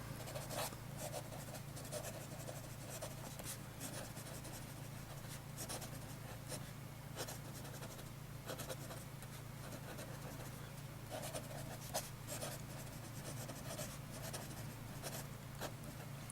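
Vintage Sheaffer Balance fountain pen nib writing smoothly on paper, a soft continuous scratching with faint stroke-by-stroke rhythm over steady low background hum.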